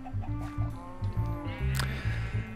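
Chickens clucking inside a Minecraft farm pen, a run of short, steady game clucks that are close and clear, with no talking over them.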